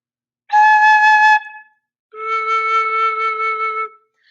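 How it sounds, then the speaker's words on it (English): Two sustained breathy tones from a flute head joint played alone, the first higher and airy, the second lower and steadier, played close with a pause between, no talking. "I can make sounds just with the head joint, and it would sound like this."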